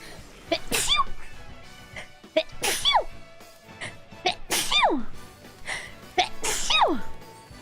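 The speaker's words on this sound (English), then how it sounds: "I'm going to sneeze." A person sneezes four times in a row, close and loud. Each sneeze is a sharp burst with a falling voiced tail, spaced about two seconds apart, with brief breaths between them.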